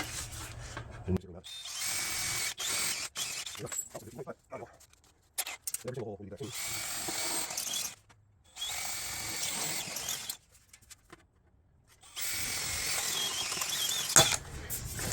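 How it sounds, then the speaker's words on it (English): A power drill with a step bit grinds through sheet metal on a Studebaker bus in several long bursts, separated by pauses with handling noises and brief talk. "Step bits are glorious for sheet metal."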